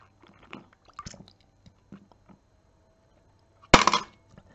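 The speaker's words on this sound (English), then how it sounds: "the card and the coin fall off" A credit card and coin drop off a wet drinking glass after the water beneath is removed, landing in one sharp, bright clatter after a few small taps and clicks.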